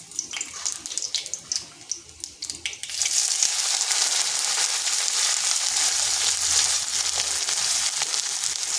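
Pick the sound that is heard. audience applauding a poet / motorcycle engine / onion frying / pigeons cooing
onion frying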